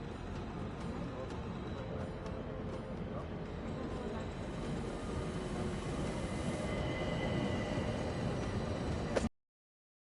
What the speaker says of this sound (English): Now we can sit back and enjoy a relaxing train ride.